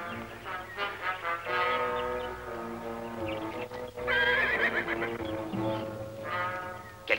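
Horses whinny repeatedly and loudly, with clip-clopping hooves beneath, in a 1958 Zorro episode set in Spanish California; the neighs rise and fall in long harmonic calls with a brief sharp knock near the end.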